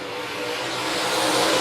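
A race car at Monett Motor Speedway, a dirt oval track, revving hard as it accelerates, with a loud, continuous engine roar that builds steadily and close by, with no talking.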